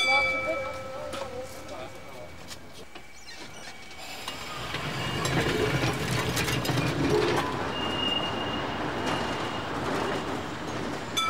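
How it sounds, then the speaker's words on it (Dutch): An old tram runs on its rails on the line to Tervuren, 1989, giving a steady rolling rumble with metallic rattles and squeals that swells after the first few seconds and stays loud to the end, with no talk. "Dit oude trammetje spreekt blijkbaar tot de verbeelding."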